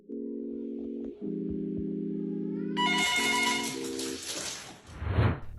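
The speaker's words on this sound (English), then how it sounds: "I haven't heard a landline phone ring in many years." A landline telephone rings in steady electronic bursts, broken by short gaps, and then other noisy sounds cut in over the end.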